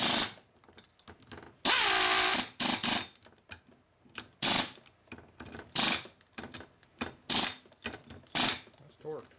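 A ratchet torque wrench tightens the cylinder head bolts on a 1952 Harley-Davidson 74ci panhead, with loud bursts of rapid ratcheting clicks repeated in quick strokes and short quiet gaps between.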